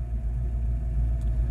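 A 1967 Ford Mustang Fastback idles just after being started, a low, steady engine rumble heard close up with a faint brief click near the end.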